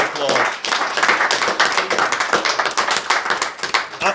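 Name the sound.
applause for community volunteers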